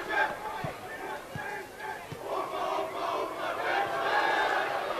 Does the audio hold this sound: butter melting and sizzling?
no